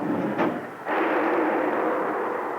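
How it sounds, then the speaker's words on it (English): Submarine torpedo tube firing electrically, a muffled deep whoosh and thump that swells into a sustained rushing roar. "Tube one fired electrically."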